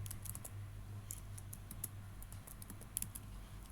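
Quiet, quick keystrokes patter on a computer keyboard while someone types code in VS Code, with light irregular clicks over a faint steady hum.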